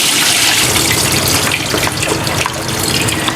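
Hot soaking water pours steadily off sliced cassava as it drains, a loud, continuous close-up rush and splash that holds without a break.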